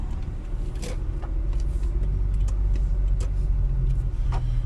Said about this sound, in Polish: poczekam aż wyjedzie ten pojazd sprzeciwka aby ominąć pojazd, który tutaj stoi